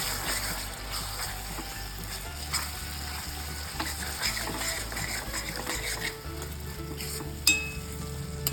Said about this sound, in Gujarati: હવે એને આપણે હલાવી લઈશું